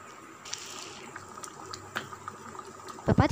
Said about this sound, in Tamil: குழம்பு பார்த்திங்கன்னா ஒரு 5 நிமிஷம் நல்லா கொதித்து வரட்டுங்க.